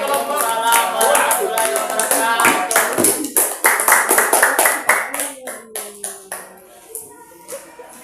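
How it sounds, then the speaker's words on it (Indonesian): A classroom audience applauds a presenting group with brisk, dense clapping that thins into scattered claps, while voices talk and chatter alongside. "beri aplaus untuk kelompok"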